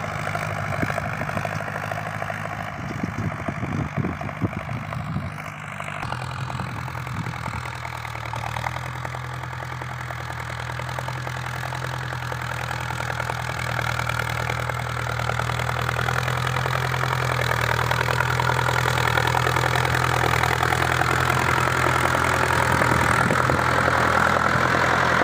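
A Ford New Holland 6610 tractor engine runs steadily at close range for the whole stretch, with a deep low idle-like drone, while the tractor clears tree-crop land into a rice field.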